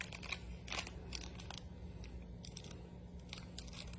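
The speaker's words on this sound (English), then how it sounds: "Let me open it up, grab my scissors again." Scissors cutting open a plastic toy package, giving faint, close snips and crinkles in short irregular bursts against a low steady hum.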